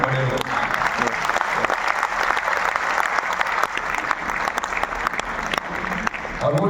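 An audience listening to an actor applauds, a steady roll of many hands clapping that fills the room for several seconds before a voice speaks at the end.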